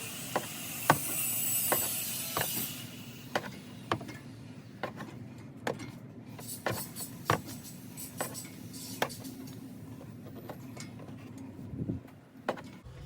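A new wheel stud on a Lexus GX470 is drawn in with a breaker bar, giving a series of sharp, evenly spaced ratcheting clicks at close range over a low mechanical hum; no one speaks.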